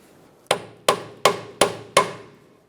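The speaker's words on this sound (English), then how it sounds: "Maybe we can use a little hammer and tap it in." Five sharp metallic taps, evenly spaced about a third of a second apart, from a small hammer striking a socket to seat a ball joint boot on a 2007-2012 Nissan Versa front suspension; close and alone with no talk.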